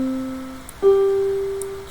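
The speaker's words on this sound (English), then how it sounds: "A fifth sounds like this." Two sustained tones a fifth apart, one held note followed by a second brighter note struck higher, clear and alone in a quiet room during an ear-training lesson on unisons, fourths and fifths.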